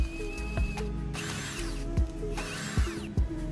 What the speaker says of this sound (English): Next we can move up to our 15mm drill bit.